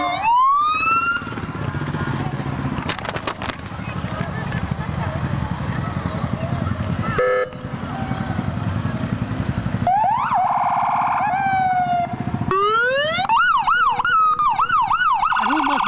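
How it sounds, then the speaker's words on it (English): A county engineer's truck in a Cinco de Mayo street parade sounds its horn and siren-like wails, loud and near, repeating in rising and falling sweeps and bursts over crowd noise. "his truck, honking horn"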